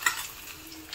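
Hilsa fish sizzle as they fry in oil in a pan. A brief, close hiss of frying comes with a stirring scrape at the start, and no one speaks.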